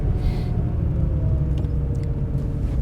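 A classic Porsche cabriolet more than 50 years old drives along, its engine a steady low rumble with road noise underneath and no voices.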